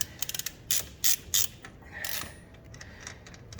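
A half-inch drive breaker bar and a 1-1/16 socket loosen a nut on a Kawasaki ATV wheel hub, giving sharp ratcheting clicks, then a few metallic clunks and a creak as the nut breaks free.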